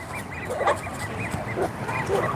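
Geese honk near a pond in a quick series of nasal calls, several birds overlapping in close, busy bursts over a steady outdoor background.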